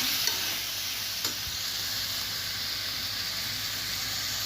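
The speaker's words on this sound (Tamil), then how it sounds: "நம்ம தக்காளியை இதை சேர்த்து நல்லா வதக்கிடலாம்" Tomatoes sauté with ginger garlic paste in a pan while cooking a veg biryani, giving a steady, close frying sizzle with a few faint stirring clicks and no talking.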